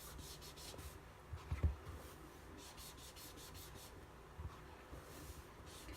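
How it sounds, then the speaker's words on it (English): An ink dauber rubs back and forth over cardstock, a soft, close, continuous scuffing with a few brief louder scrapes. "You can just apply that ink and get it as bold and as dark as you'd like. And so I'm just going to rub over it again."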